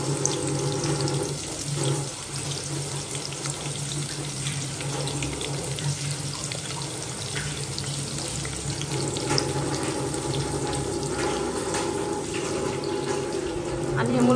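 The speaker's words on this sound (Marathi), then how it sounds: "पाणी कशाला चालू करतो राजा?" A kitchen tap runs steadily into the sink beside a stove where onions are frying for paneer dum biryani, a continuous close rushing splash lasting throughout.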